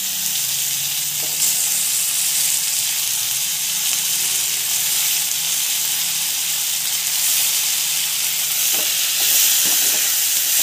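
Tomato sautéing in a pan for a simple Indian home recipe gives a steady, moderately loud frying sizzle and hiss throughout, with a few soft stirring scrapes and no talking.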